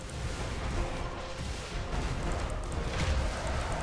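Starship guns firing in the space battle game Battlefleet Gothic Armada 2, a continuous rumbling barrage of heavy booms and crashes at moderate, steady loudness with no talk over it.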